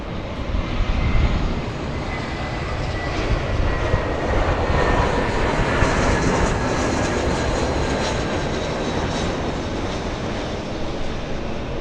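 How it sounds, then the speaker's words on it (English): Boeing 787 Dreamliner airliner at LAX, a steady broad engine roar heard from a distance that holds a constant level for the whole stretch, with no voices over it. "Why don't we go ahead and zoom in on this here Dreamliner?"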